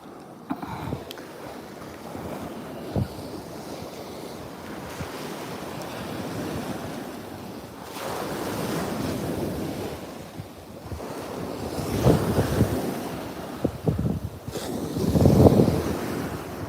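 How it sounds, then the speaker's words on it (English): Ocean waves roll onto a beach in slow, swelling washes of surf, with gusty wind buffeting the microphone throughout and no other sound standing out. "Well, I'm glad you're enjoying the ocean's sound."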